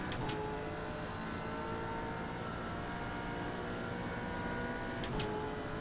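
A Gen 3 Camaro race car engine in iRacing at Bathurst's Mount Panorama holds a steady, continuous drone at an even level throughout, with a couple of brief high-pitched bursts near the start and end.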